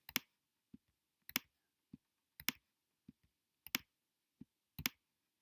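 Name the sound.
computer mouse clicking while drawing bridge in Bridge Designer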